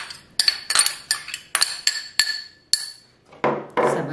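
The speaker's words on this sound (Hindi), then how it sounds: "साथ ही हम इसमें डाल देंगे स्पाइसेस स्पून की मदद से" A spoon adds spices to mashed potato in a bowl for potato chapli kebabs, giving a run of sharp, bright clinks against the bowl at a steady, uneven rhythm, close up, ending in a brief soft scraping rustle.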